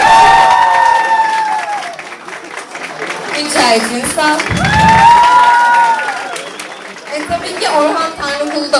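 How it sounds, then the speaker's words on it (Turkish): Audience at a Turkish association breakfast event applauds and cheers, with scattered whoops and children's shouts, while a speaker's voice carries over the crowd throughout. "Ona da bir alkış."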